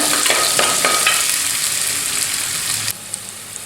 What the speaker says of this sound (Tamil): இதை நல்லா வதக்கிக்கோங்க நல்லா ப்ரௌன் கலராக வர வரைக்கும் வதக்கிக்கோங்க